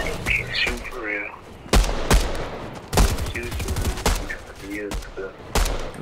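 Gunfire in the video game Fortnite cracks out in repeated loud bursts of shots spread across the moment, mixed with game sounds while a person talks underneath.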